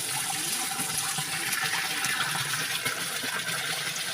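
Water rushing steadily in a stream in a rural West Java village, a continuous close hiss and splash at an even level throughout with no speech over it.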